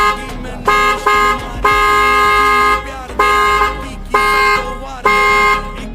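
Uno Minda horn fitted to a Maruti Suzuki Baleno car, blaring in five loud, sustained, harmonically rich blasts of roughly half a second to a second each, with short gaps between.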